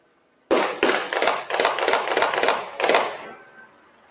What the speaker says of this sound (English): In this clip, you can hear the exchange of gunfire.